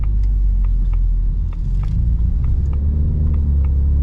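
A 2024 Ford Mustang EcoBoost Premium pulls through a corner with a steady, loud low engine rumble from inside the cabin, carrying on evenly without pause and with faint ticks and rattles above it.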